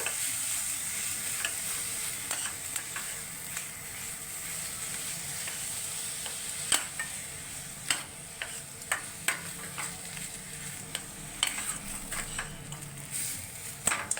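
Pointed gourd dolma filling is mixed in a pan over a soft, constant sizzle, with a spatula tapping and scraping the pan in irregular clicks, close and quiet, no talking.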